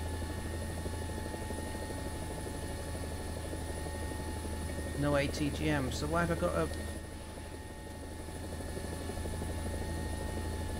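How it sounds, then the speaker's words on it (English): A helicopter rotor in War Thunder, in the simulator mode on the development server, gives a steady, droning whir throughout, with someone talking briefly over it midway. "Bloody helicopters."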